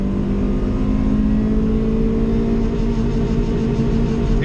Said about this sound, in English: We'll sit on the rev limiter here for a little bit.